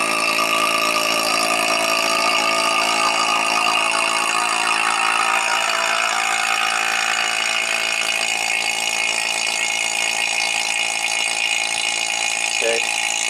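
A vacuum pump evacuating the A/C system of a '91 Audi 200 Quattro drones steadily and loudly with a dense buzzing tone, unbroken for the whole stretch, a brief click near the end.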